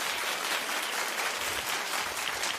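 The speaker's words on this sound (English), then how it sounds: "Clap if you remember." A television talk-show studio audience claps together, a dense, even burst of many hands at close range that stays steady for a couple of seconds with no talking.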